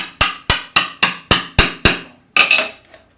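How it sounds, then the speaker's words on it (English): Seven evenly spaced sharp metallic hammer strikes ring out as a riveting tool drives a rivet head down on a leather knife sheath, followed by a longer, rougher knock and clatter; close and loud with no talking. "First I'll use this tool to drive the top of the rivet down."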